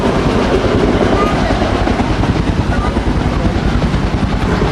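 Loud, continuous Kaman K-MAX helicopter engine and rotor rumble at an air show, close by with a rapid, steady thrumming throughout.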